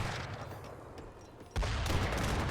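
Mortar fire in the strategy game Age of Empires III, a sudden loud blast of booming shots and rumbling impacts breaking in after a quieter stretch of distant battle noise.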